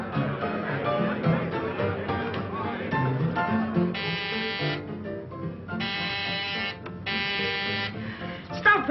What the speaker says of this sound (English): Stop pressing that buzzer.